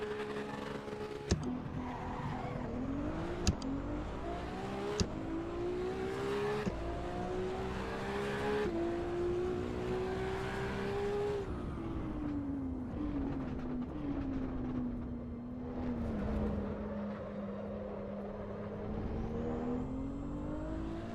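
A Honda S2000 racing engine in Assetto Corsa Evo revs up and down through gear shifts, pitch climbing and dropping, with sharp clicks between changes.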